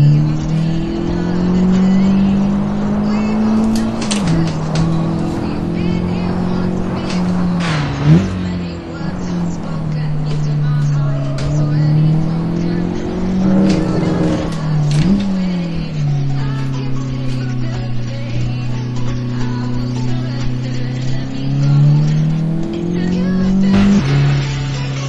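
A 2023 Honda Civic Type R with its 2.0 turbo four-cylinder, driven in the Assetto Corsa racing game, drones loudly throughout, its engine note rising and dropping with gear changes and occasional sharp transient bumps.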